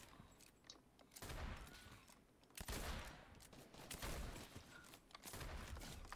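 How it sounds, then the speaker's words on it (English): Bursts of automatic gunfire in a Fortnite match, several rapid volleys of shooting at a distance, fairly faint and crackling, with no talk over them. "Oh, someone's shooting."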